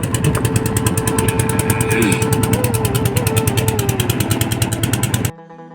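Boat engine drones steadily on a river between Assam and Meghalaya, a close, loud mechanical hum with regular pulsing that runs unbroken for about five seconds before cutting off abruptly.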